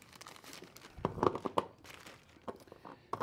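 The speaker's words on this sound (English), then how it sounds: "I'll get around to taking the plastic bag off here finally." Plastic wrapping crinkles and crumples as a bag is pulled off a new Troy-Bilt StormTracker 2890 snowblower during unboxing, with bursts of crunching and tearing rustle, the loudest around the middle, at close range.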